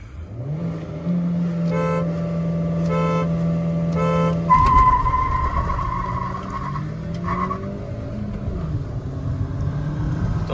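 Maruti Ignis and Hyundai Creta launching side by side in a drag race, engines droning steadily and loud, then a sharp burst of revving and tire noise as they pull away, with whining engine tones fading through the rest.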